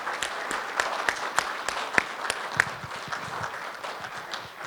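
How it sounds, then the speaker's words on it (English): Audience at a farming and funding event for Northern Illinois producers giving a round of applause, a sustained patter of many hands with a few sharper individual claps standing out. "And please give them a round of applause"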